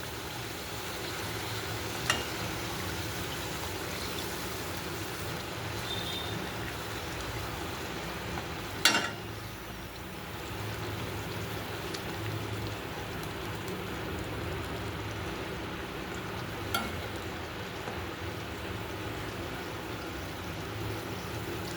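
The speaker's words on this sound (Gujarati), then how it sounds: "જો આપણી પૂરીઓ તળાઈ ગઈ છે" Puris deep-fry in hot oil for a Janmashtami fasting thali, giving a steady, even sizzle that continues throughout with a few faint clinks, and no talk.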